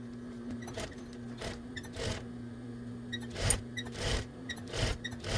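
Sewing machine stitching a curved seam on a terry hooded towel, quiet bursts of rapid mechanical whirring that start and stop repeatedly with short pauses between runs, heard close and alone.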